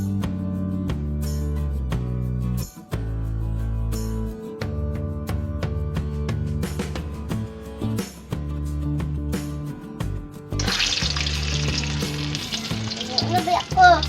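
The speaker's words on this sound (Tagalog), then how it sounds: "bali pangalawang prito na po ito." Pork belly crackles in hot oil during its second deep fry, a steady sizzle running under music throughout, with a brighter burst of bubbling near the end.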